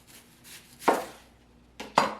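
A knife slicing through red onion on a cutting board, two sharp distinct chops with a softer cut before them, close and clear with no talking.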